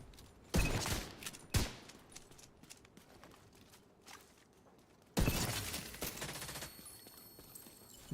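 Gunfire from the online shooter The Division 2, with two sharp shots and then a longer close burst of rapid fire, separated by quieter stretches of muffled background game noise and no voices.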